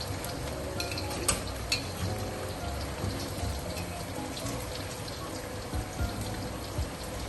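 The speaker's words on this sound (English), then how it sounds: "so when you fry tofu, make sure the flame is the oil is hot. Okay, just let it fry for a while." Tofu fries in hot oil in a wok, a steady close crackling sizzle with scattered pops and occasional scraping clinks, continuing without talk.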